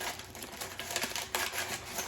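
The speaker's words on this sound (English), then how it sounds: "I'm just going to take a pair of scissors and I'm going to cut this off right there" Scissors snip open a microwave popcorn bag up close, giving a steady crinkly rasp of blade and paper with no talk.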